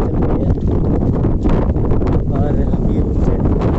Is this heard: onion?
no